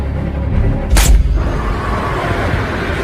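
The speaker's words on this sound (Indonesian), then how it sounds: "tembakan Henry berhasil mengenai target pada bagian leher" One sharp, heavy sniper rifle shot in a film booms out, loud and close, followed by a brief rumbling tail over a steady low background rumble.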